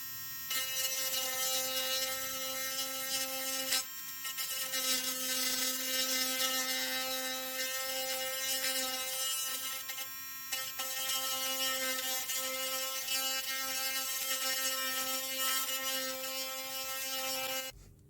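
A small motor fitted with a miniature drill chuck cuts a slot for a switch in a laptop cooling pad casing, giving a steady high-pitched whine with tonal harmonics that runs nearly continuously, briefly dipping twice.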